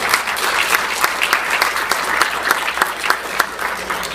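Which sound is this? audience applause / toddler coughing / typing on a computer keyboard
audience applause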